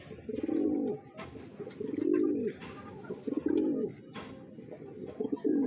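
Racing pigeons in a loft during breeding season give soft, close cooing calls that repeat in a steady rhythm of rolling coos about a second apart, with faint background rustling and no talk.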